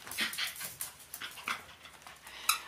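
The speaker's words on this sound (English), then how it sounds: "Well, that's my dog." A small hyper dog whimpers and yips in short bursts while playing with a toy indoors, fairly close and moderately loud.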